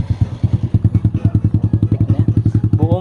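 A motorcycle fitted with a Yoshimura Alpha muffler, its silencer removed, idles with a loud, close, rapid stream of deep popping exhaust pulses, and a voice briefly sounds near the end.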